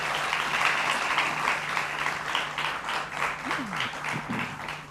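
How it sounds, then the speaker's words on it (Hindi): Applause from an audience welcoming a guest, Swami Shailendra Saraswati, at a Hindi talk show, a steady wash of clapping lasting throughout at moderate loudness with a low hum beneath. "जोरदार तालियों से इनका स्वागत कीजिए"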